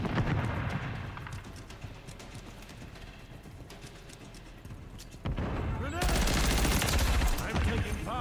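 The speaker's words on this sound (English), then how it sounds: "I'm taking fire." Gunfire from an online multiplayer shooter video game, with bursts of rapid shots and clattering effects that grow louder and denser near the end, mixed with game noise and a voice talking.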